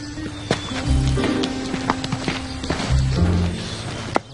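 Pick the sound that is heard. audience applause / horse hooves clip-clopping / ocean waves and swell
horse hooves clip-clopping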